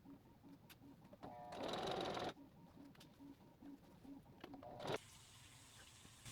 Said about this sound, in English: just sewing it up